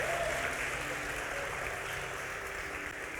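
A church congregation applauds during a sermon, dense continuous clapping that fills the room at an even level, with no voices standing out.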